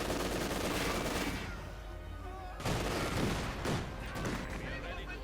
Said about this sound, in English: the mortar's already firing away